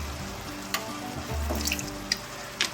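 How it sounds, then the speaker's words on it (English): A splash of dry white wine is poured into a soup pot of sizzling mushrooms, giving a steady liquid hiss and fry with a few small clinks, close and without talk. "and a splash of dry white wine."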